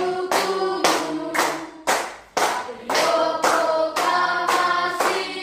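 A class of students clapping hands in rhythm while singing a patriotic song in a schoolroom, bursts of claps in regular beats with the sung melody carrying between them.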